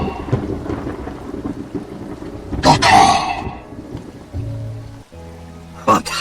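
Steady rain falls with a loud crack of thunder midway and another brief rumble near the end, a stormy atmospheric sound effect.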